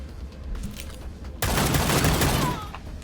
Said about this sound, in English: Shot all 3 of them, killed 1.